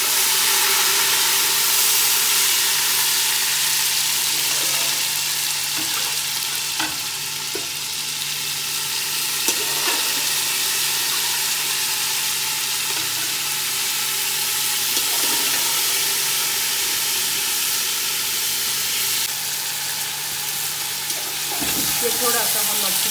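Chicken pieces fry in a pot for yakhni pulao, giving a steady loud sizzle with occasional stirring knocks and scrapes throughout, while a voice talks over the cooking.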